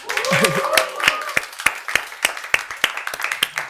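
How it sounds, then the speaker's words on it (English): A small group in an office clapping to welcome Deepika Padukone, starting over a voice and then settling into distinct, fairly spaced claps that are near and crisp. "Clap, everyone."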